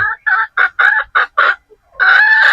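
Pullets and young roosters kept on a gamefowl farm, a run of six short loud clucks in steady rhythm, a brief pause, then a sustained strained crow close by.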